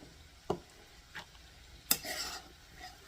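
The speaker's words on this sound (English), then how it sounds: "we're going to put rice in the bottom of each bowl" A spoon scoops cooked rice into serving bowls for shrimp taco bowls, giving a few soft, separate clinks and a brief scrape against the bowl in a quiet kitchen, with no talking.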